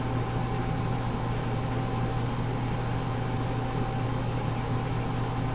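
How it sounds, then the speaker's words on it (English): An agitator motor runs steadily while mixing and heating fluid, giving a constant droning hum with a faint tonal whine and an even level throughout, with no voices. "we hear the agitator start"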